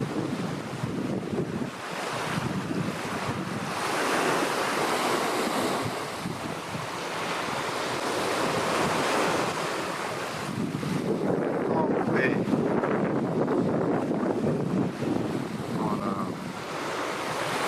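Ocean waves and gusting wind on an early March morning on the way down to a beach, a continuous roaring surf wash with microphone wind buffeting, steady and fairly loud throughout with no clear talk.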